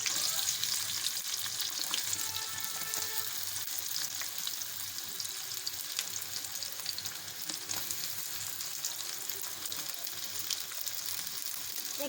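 Chopped onions sizzle and fry steadily in hot oil in a karahi, the base for chicken karahi, a constant crackling hiss with no voices over it.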